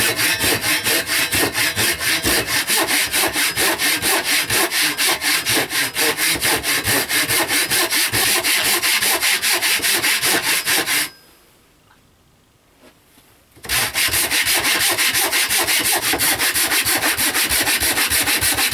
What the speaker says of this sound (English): I'm going to use one of these Japanese pull saws because the blades are lovely and thin and the teeth are fairly fine.